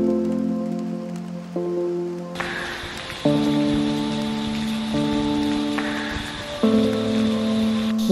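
Steady rain falls in Munnar, Kerala, a dense hiss that begins abruptly a couple of seconds in and continues under sustained tonal layers.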